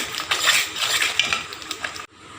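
Thick jackfruit jam being stirred in a metal pan, a ladle scraping and clinking close by in irregular strokes, then stopping abruptly.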